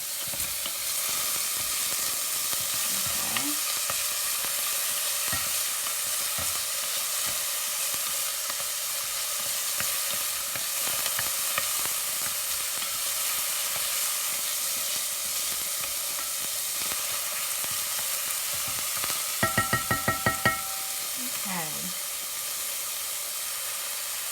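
Onions cooking in a pan, a soft steady sizzle and hiss running throughout with occasional light clinks and scrapes, close and unbroken, no voices.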